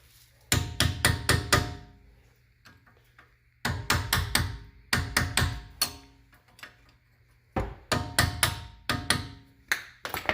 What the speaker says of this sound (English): now you want to take off the dust cap here to access the actual retainer bolt that holds the hub bearing in